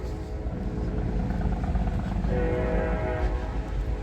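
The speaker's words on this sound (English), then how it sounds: "Of course, you can hear the train in the background." A train passing near a train museum at a state park, a steady rumble under faint distant talk, with a sustained horn-like tone rising in the second half.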